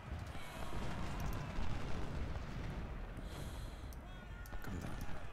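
Artillery fire in a Civil War battle game set at Stones River, heard as a continuous rumbling barrage of booms with sharper bursts near the end, dense and loud throughout, with faint voices mixed in.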